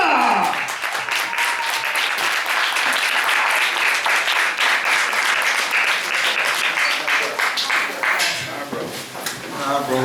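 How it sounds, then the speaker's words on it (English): An audience at a spiritual gathering bursts into sustained clapping and cheering that fills the room for several seconds, dense and loud, with voices mixed in before it tapers off near the end. "give him a round of applause"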